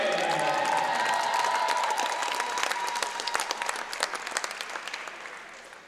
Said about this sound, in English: let's have a round of applause for number 11, Tori